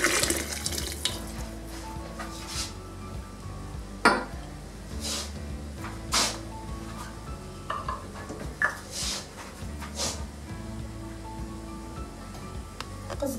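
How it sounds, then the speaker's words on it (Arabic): Water poured into a pot of frying meat while making barley couscous, a steady running and splashing wash with occasional metallic knocks of the pot and a faint sizzle, no talking. "دابا غادي نضيفو الماء"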